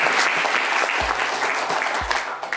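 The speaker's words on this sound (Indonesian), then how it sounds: "Boleh kita mulai dengan tepuk tangan nggak buat kita semua?" Audience applause at an indoor sales-training session, steady dense clapping filling the room throughout, with a couple of low thumps partway through and no talk over it.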